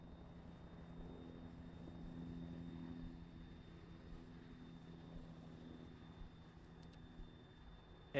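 Two helicopters in Arma 3 fly overhead, a steady low rotor and engine drone that holds through the whole stretch with no talk.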